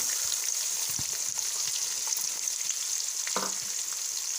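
Onion pieces frying in oil with cumin seeds and curry leaves for pav bhaji, a steady bright sizzle with faint crackles and a brief stirring scrape near the end, close and continuous, no talk.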